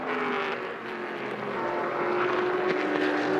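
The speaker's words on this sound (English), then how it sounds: "Great listening to the different engine notes from these cars. The BMW, the Corvette, the Ferrari." Sports car racing engines from BMW V8s, Corvettes, Ferraris and Porsches in a six-hour endurance race at Watkins Glen roar continuously at high revs, a dense sustained drone with shifting tones.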